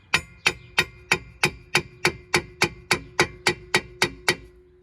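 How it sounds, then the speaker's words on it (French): A small hammer taps a suspension part on a Peugeot 206, about a dozen sharp, evenly spaced metallic knocks, close and clear with nothing else heard. "Vous prenez un petit marteau."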